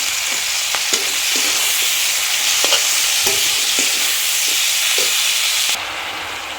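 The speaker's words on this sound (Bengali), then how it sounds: "ভালো করে নাড়াচাড়া করে মিক্স করে আমি একটু ঢাকা দিয়ে দেবো" Steady sizzling and frying as gourd leaves are stirred in a pan, with soft, irregular scraping and stirring clicks, close by, with no talking.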